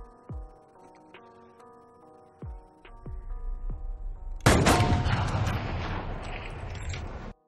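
Rifle shots ring out in a film scene, several sharp, booming reports spaced a second or so apart, followed by a sustained burst of loud, harsh noise, with no voices.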